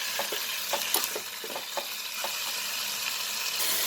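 Peanuts, tomato and green chillies frying in a pan for chutney give a steady close sizzle, with light scraping stir strokes repeating through the first half before the hiss carries on alone.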